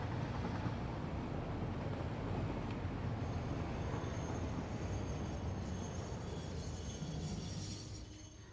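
A train runs along rails in the factory-building video game Satisfactory, a steady, loud, continuous rumble and rattle that holds throughout and fades slightly at the end, with no voices.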